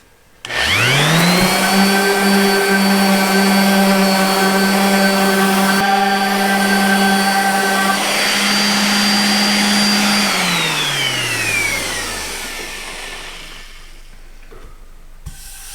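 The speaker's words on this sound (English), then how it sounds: "I'm just going to go ahead and get the surface sanded" A power sander with 220-grit paper sanding a wooden tray surface whirs up to a steady high-pitched drone, runs loudly for about ten seconds, then winds down.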